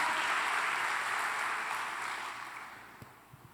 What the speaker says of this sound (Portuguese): Aplauda o Senhor Jesus pela tua vida, pelo teu sonho. Enquanto você aplaude